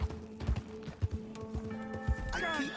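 Rhythmic hoofbeats of a horse in Red Dead Redemption 2 clop at a quick pace, then the horse lets out a shrill whinny near the end; a faint steady hum sits underneath.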